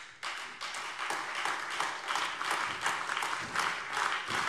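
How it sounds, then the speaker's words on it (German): Applause in a German state parliament plenary session, steady rhythmic clapping from many members at moderate distance, continuous throughout with no speech. "Applaus"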